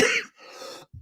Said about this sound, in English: Just a very chesty cough.